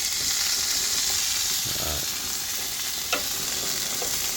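Lamb forequarter chops sizzle steadily on a hot barbecue in a loud, continuous hiss, and a brief scrape is heard as the meat is flipped.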